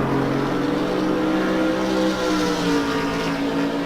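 GT race cars, including a Mercedes-Benz SLS and a BMW, roar around Monza in a sim racing game. Engines hold a loud, steady high-revving drone with layered harmonic tones that shift slightly in pitch throughout.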